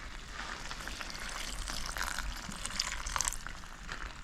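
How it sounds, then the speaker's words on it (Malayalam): Cooled boiled water splashes into a hot pan of Kerala-style squid roast and sets off a steady hiss and sizzle. The sound is loud and close, with some bubbling over a continuous frying noise and no talking. "കുറച്ച് തിളപ്പിച്ച് നമുക്ക് ആറിയ വെള്ളം കുറച്ച് ഒഴിച്ച് കൊടുക്കാം"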